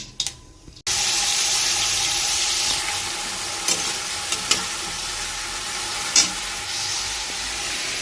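Bhajiya frying in hot oil with only oil added, a steady loud sizzle that starts abruptly after a brief quiet moment, with occasional clinks and stirring sounds.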